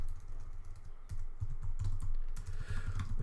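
Rapid, uneven keystrokes on a computer keyboard tap along steadily for a few seconds, close and fairly quiet, with no voices.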